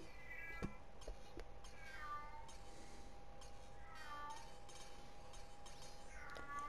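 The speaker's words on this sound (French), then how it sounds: "Désolé pour le chat." A cat meows several times, short rising cries spaced out over a quiet room background, fairly close but soft.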